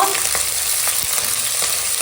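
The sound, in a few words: onion greens and tomato frying in pan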